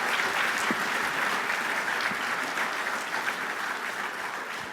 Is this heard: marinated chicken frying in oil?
no